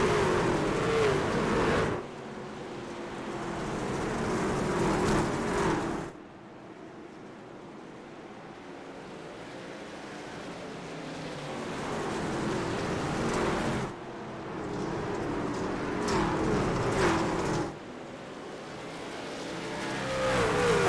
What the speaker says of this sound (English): Relatively clean start for the Outlaws boys as they roar back into turn number 1